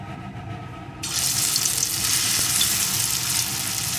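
Drops of ground lentil paste hit hot mustard oil, and after a quiet second a loud, steady, hissing sizzle starts abruptly and carries on without a break.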